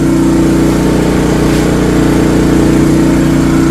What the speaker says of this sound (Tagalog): titest po natin yung load capacity ng ating generator na pamamagitan ng pag-weld or yung series welding machine